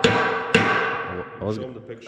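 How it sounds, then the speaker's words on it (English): Metal hammer blows ring out on steel lowboy trailer parts in a shop, two sharp resonant strikes about half a second apart followed by fainter clanks, close and loud. "you just keep hammering away"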